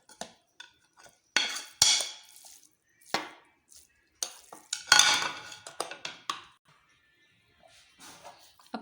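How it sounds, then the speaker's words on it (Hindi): Beef mince being chopped and stirred together with onions and green chilies for beef kofta, giving a run of close, irregular knocks and scraping clatters with short pauses between them and no talk. "अब कीमे को हम प्याज और सब्ज़ मिर्चों में अच्छी तरह चॉप करेंगे।"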